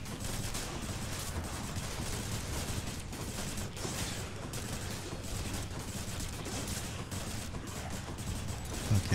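Explosive fire attacks in the video game Hades, a dense continuous barrage of crackling blasts and rattling impacts at moderate level, with no clear breaks over the whole stretch.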